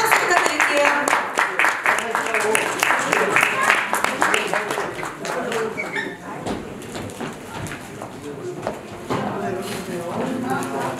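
At an awards ceremony, an audience applauds with dense, rapid clapping that fades down and swells again over several seconds, while a host speaks over it.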